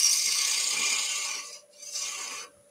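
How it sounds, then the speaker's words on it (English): The bevel of a woodturning tool rubbing against a spinning wooden cheese platter on a lathe, a close, steady hissing scrape that briefly dips before continuing. "A little bit of a bevel rub going on now."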